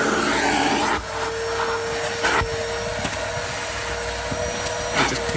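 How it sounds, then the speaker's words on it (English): A wet and dry vacuum cleaner runs continuously with a steady whine and hum while sucking moisture out of car mats after fabric cleaning and steaming, close and loud with brief shifts in pitch. "And then back to my wet and dry vacuum."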